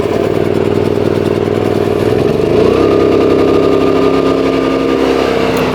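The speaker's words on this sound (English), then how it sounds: "So to start it, we're going to start it live on camera right now." A Predator 7500/9500 watt inverter generator engine runs steadily up close, then shifts into a smoother, higher settled hum partway through, loud and continuous with no talk.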